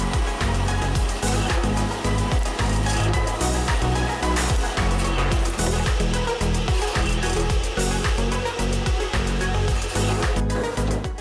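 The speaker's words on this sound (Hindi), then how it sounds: "अब देख सकते हैं कितनी तेजी से यह मशीन यहाँ पर इन लोहे की रोड पर काम कर रही है।" A workshop machine shapes and sharpens iron rods into pointed parts for house grilles, giving a loud, continuous grinding whine broken by rapid repeating low thumps, close by with no speech.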